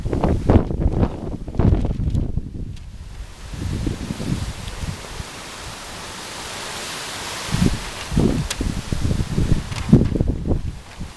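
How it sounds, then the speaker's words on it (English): Gusty wind at a baseball field during a women's baseball game buffets the microphone in loud, uneven rushes and roars, easing briefly midway before strong gusts return, with no voices. "Wind picks back up here at Old Rock Field."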